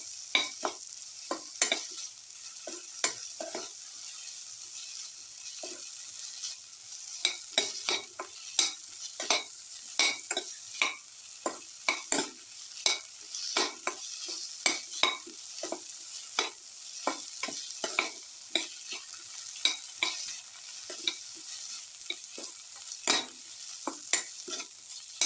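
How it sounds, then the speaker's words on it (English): Vegetables for a garlic potato okra casserole sauté in a pan, a steady close sizzle broken by frequent sharp scraping clicks of a spoon stirring, irregular and continuous, with no voices. "Keep on sauteing. Sauteing thoroughly."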